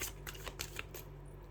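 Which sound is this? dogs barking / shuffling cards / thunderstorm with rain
shuffling cards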